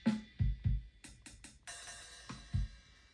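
A short drum kit groove with a punch effect, punchy kick hits, snappy snare strikes and crisp cymbals, played alone at moderate volume.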